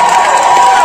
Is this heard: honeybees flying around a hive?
no